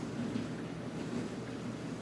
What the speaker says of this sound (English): So it's going to spin it and it's going to weigh it out.